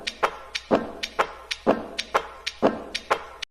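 Processed basketball swish sounds form a brushed drum kit with reverb, playing a steady looping groove of alternating deeper thuds and lighter ticking hits, close and clear with no voices.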